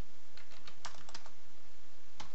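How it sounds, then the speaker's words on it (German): Typing on a computer keyboard during AutoCAD material mapping work: a few scattered key taps and clicks, fairly faint, with no talking. "Es ist, ich gebe es zu, es ist eine unangenehme Tipperei."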